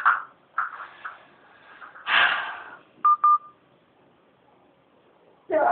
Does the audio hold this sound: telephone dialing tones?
yes